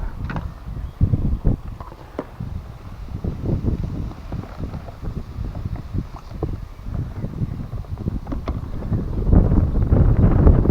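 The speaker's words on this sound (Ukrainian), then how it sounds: "Ну вітер, звісно, конкретний. Дує так, що йоперний валя." Strong wind buffets the microphone at a waterside carp-fishing spot with low, gusty rumbling throughout, growing heavier toward the end, with faint knocks and creaks beneath.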